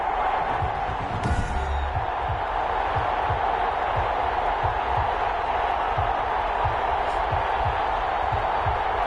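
NFL video game stadium crowd before a Cleveland Browns versus Cincinnati Bengals matchup, a steady wall of broad cheering and roar with rhythmic low thumps running beneath, and a commentator's voice faintly present.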